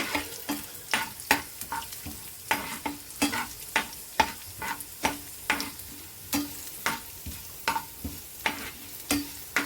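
Garlic and cumin tempering fries in oil while a utensil stirs in a steady rhythm, producing regular scraping strokes over a continuous soft sizzle.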